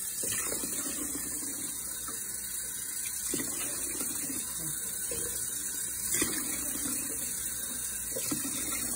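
A kitchen tap runs steadily, filling a pot with water for cooking shrimp and grits, a continuous close hiss and splash lasting throughout with small clinks and movements over it.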